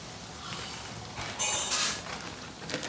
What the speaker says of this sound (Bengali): এখানে আমি একটা প্লেট নিয়েছি, প্লেটের উপরে পেপার দিয়ে পেঁয়াজটা নিয়ে নিচ্ছি।